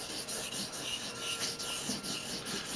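A bar of 6000 grit compound is rubbed onto the suede side of a leather bench strop in quick, steady back-and-forth scrubbing strokes, close and rasping.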